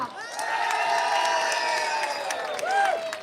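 Crowd at a women's rally in Perth, Australia, applauds and cheers loudly, with sustained clapping, whoops and shouts swelling and holding, a brief higher whistle-like cheer near the end.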